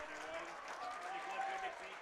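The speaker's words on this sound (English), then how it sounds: "Cyrus Sadie comes out to a well-deserved round of applause" A crowd at a soccer match between Detroit City FC and Michigan Stars applauds a substitution, a steady wash of distant clapping and cheering heard beneath a commentator's voice.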